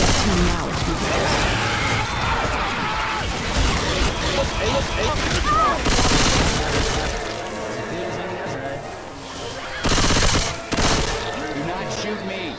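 Video game gunfire in a zombie-shooter scene, sharp bursts of shots around the middle and near the end, mixed with crashing impacts and frequent talking throughout.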